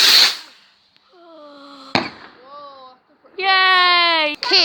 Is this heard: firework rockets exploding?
yes